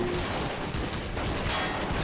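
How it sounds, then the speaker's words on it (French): Dense, continuous gunfire in the Garry's Mod zombie survival game, a thick barrage of overlapping shots with no pauses, loud and constant throughout. "les bruits d'armes à feu"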